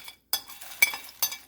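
A spoon scrapes and clinks against a pan in a few quick strokes while sauce is stirred with dried shrimp, the sharp contacts close and fairly quiet.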